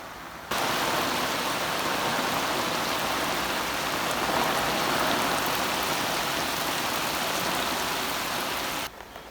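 Heavy rain pours down steadily on an outdoor fishing spot at the water's edge, a dense, loud, continuous hiss of drops that fills the whole stretch with no talk over it.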